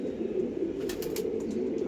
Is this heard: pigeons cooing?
yes